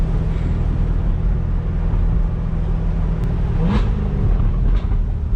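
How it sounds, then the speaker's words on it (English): Loud, steady engine rumble of a C8 Corvette fitted with an aftermarket exhaust, heard from close by, with a short rising rev and a crackle of pops near the end. "Oh, listen to those pops."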